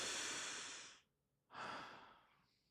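Two slow, close breaths are heard, a long airy exhale, a brief pause, then another soft breath that fades out, quiet and intimate.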